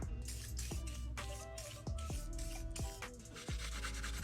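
A Brillo pad with WD-40 scrubs a Toyota 2JZ engine block, a steady close abrasive rubbing with repeated scratchy strokes and a few sharper squeaks, alone without talk.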